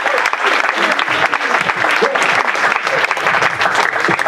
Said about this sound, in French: Merci Zouzou, on l'applaudit s'il vous plaît.